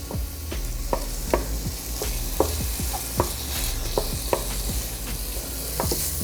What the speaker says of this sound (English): Starting to make the yummy sounds, nice sizzly sounds.